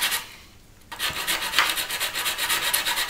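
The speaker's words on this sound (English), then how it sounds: "What you want to do is keep your sanding stick flush across the entire thing" A sanding stick is rubbed back and forth over a plastic 1/48 scale model aircraft kit, making close, rhythmic raspy strokes about four per second after a brief quieter start, with no talk.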